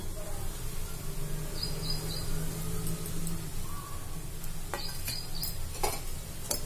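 Beetroot and moong dal dry curry is stirred in a pan with salt, chilli and turmeric, faint scraping and stirring over a low background hum, with a few sharper scrapes toward the end.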